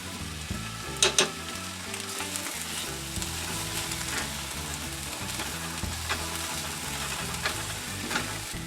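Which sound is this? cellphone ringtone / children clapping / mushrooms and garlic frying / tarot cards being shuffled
mushrooms and garlic frying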